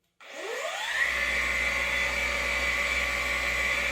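An XCE forced rotation polisher switches on and spins up to a steady, loud whirring drone while polishing car paint with Koch Chemie P3.01 abrasive, running continuously close by with no voices.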